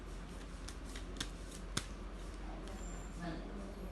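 Tarot cards being shuffled and drawn for a reading, a steady papery riffle and rustle with a few sharper card snaps standing out, close and soft.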